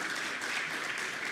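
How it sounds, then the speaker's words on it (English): Audience at an African development finance conference claps for the moderator, a brief steady burst of applause filling the room at moderate loudness. "Shall we now clap for the moderator?"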